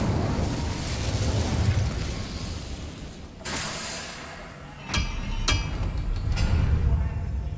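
Incendio fire spell cast in the Hogwarts Legacy video game: a whooshing, crackling burst of flame over a rumbling background, followed by sharp cracking pops and a second surge, with faint speech underneath.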